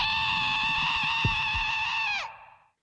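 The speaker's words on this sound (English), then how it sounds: "Oh god, screams of anguish." A dragon in the One Piece anime lets out a long, loud, anguished scream with a harsh tonal wail that holds steady for about two seconds, then drops in pitch and cuts off abruptly.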